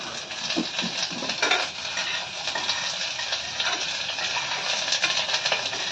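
A spoon scrapes and stirs tomato curry with curry leaves in a pan, with soft clinks and light sizzling in a steady irregular rhythm close by.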